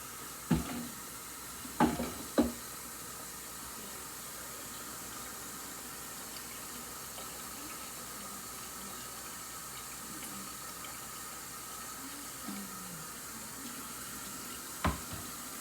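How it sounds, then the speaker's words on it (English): A kitchen tap running steadily as a pot fills with cold water for potatoes, a soft continuous hiss throughout with a few knocks and clunks of the pot near the start. "let's put cold water in here"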